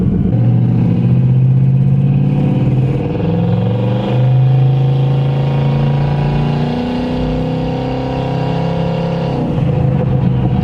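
A heavy diesel truck engine with a Jake brake drones loudly and continuously, its low tone rising and shifting as it revs under load, with no talking.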